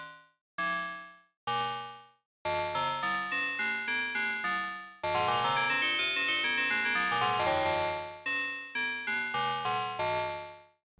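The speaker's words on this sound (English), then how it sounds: "Kind of get this really sort of inharmonic bell sound." Inharmonic, metallic bell tones from a Cherry Audio Chroma synthesizer play alone, first three separate struck notes, then a rapid run of repeated strikes, a long sustained ringing chord, and more quick bell hits.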